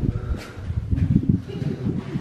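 Gusty wind buffets and rustles at Moon Beach in the Greek islands, with rough low noise surging and easing over a couple of seconds.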